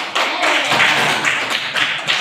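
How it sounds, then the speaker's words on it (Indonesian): Applause in a classroom during a lesson on the human digestive system: dense, steady clapping from a group for about two seconds, close and fairly loud, with no talking over it. "Kita beri aplaus."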